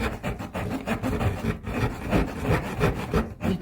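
Swiss Army knife or a copy cutting through wood, a close rhythmic rasping saw stroke repeated rapidly and steadily back and forth.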